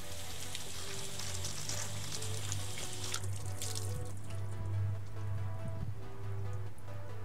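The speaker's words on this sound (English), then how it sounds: "we'll rinse off the F11 side and see how the water reacts" Water spraying steadily off a car panel coated with Topcoat F11, rinsing away soap residue; a constant broadband hiss with spatter throughout, close and moderately loud, no talking.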